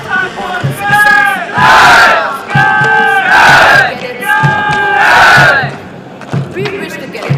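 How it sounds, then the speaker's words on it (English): Academy cadets at a passing-out parade let out loud, repeated crowd cheers and battle cries, several rising group shouts in succession with short pauses between them. "They'll cheer the cadets of the passing out course."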